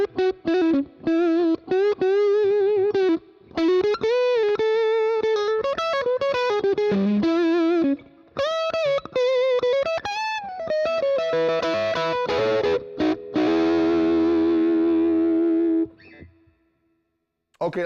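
A Fender Custom Shop Masterbuilt Eric Clapton Stratocaster electric guitar with its preamp turned fully up, playing a loud, bright run of bent and sliding single notes, followed by a strummed chord that rings out and fades.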